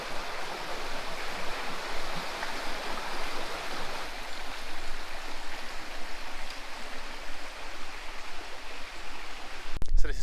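A river stream flowing in Cornwall, a steady broadband rush of water running close and fairly loud throughout, with a brief knock near the end.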